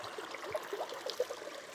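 Faint water trickles and gurgles along a stream at Ram Jaladurgam, with small irregular splashes and no voices.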